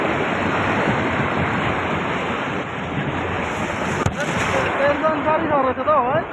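A vehicle crosses river water at Rishikhola, giving a steady, loud, close rush of churning water and wind-like noise. Voices rise faintly over it near the end.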